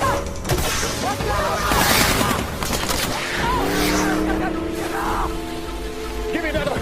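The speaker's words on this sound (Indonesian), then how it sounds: "Para perompak terus menembaki" Somali pirates firing guns at an American cargo ship at sea, rapid bursts of gunfire mixed with crashes and rumbling, with voices and tonal sounds layered over the shots.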